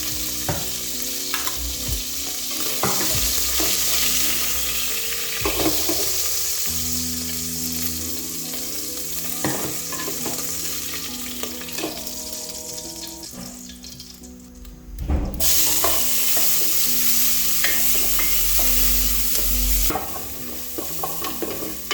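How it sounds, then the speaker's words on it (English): Onions, capsicum and coriander stems fry in a pan for a beef stew, giving a steady loud sizzle broken by frequent stirring scrapes and utensil clinks throughout, with no talking. "Then we can fry our vegetables and add our meat straight back in."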